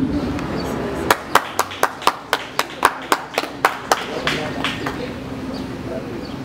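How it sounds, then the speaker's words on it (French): At a graduation ceremony in Cap-Haïtien, a dozen or so sharp, evenly spaced claps ring out close by at a steady beat, over a murmuring background of voices, then give way to quieter ambience. "Il faut les encourager, mes amis, sur vos applaudissements."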